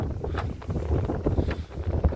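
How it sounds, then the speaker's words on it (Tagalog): Steady wind buffeting the microphone with low rumbling gusts on a boat out on choppy open sea while net fishing, with no talking. "Mahangin."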